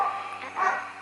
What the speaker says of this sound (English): Now the neighbor's dogs are barking.